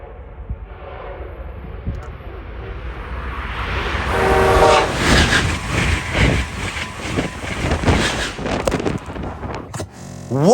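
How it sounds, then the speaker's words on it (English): An Amtrak Acela Express high-speed train passes at about 150 mph at a station in Mansfield, Massachusetts, a rising horn and rushing roar building quickly, then a loud, rapid rattling wash of cars sweeping close by, ending abruptly. "This 150 mile per hour Acela blew my camera away."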